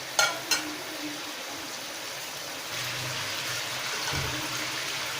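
Ingredients frying in a pan during home cooking, a steady hiss of oil with a couple of sharp clatters near the start and a slightly louder, fuller sizzle later on.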